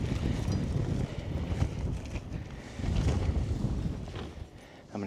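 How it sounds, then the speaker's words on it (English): Strong wind gusting across an open hilltop at an agate rockhounding site, a steady close buffeting rumble with heavier bursts that swell and fade. "Really windy up on this hill."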